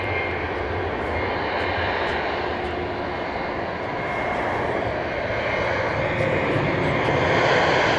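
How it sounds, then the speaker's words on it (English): A Boeing 737-800 takes off from runway 31 right at Dallas Love Field, its jet engines making a steady, loud, broadband roar that holds for the whole stretch and swells slightly toward the end. "Taking leave of runway 31 right, 737-800 off to Austin,"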